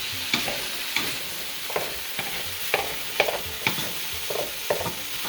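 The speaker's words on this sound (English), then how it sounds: "Carrots are cooking." Carrots cooking in a pan for Irish stew under a steady soft sizzle, with regular scraping strokes about every half second as a utensil pushes them aside, no voices.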